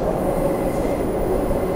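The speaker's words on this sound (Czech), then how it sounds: "to jsou vlaky" Train rolling across a long bridge completed in 1932, a steady loud rumble of wheels on rails with faint squealing, continuous and close throughout.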